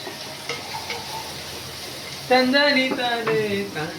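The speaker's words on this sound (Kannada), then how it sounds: "ಈಶ್ವರ ಒಗ್ಗರಣೆ ಹಾಕ್ತಿದ್ದಾನೆ." Spices tempering in hot oil for a mint chicken dish make a faint, steady sizzle; from about halfway, voices talk loudly over it.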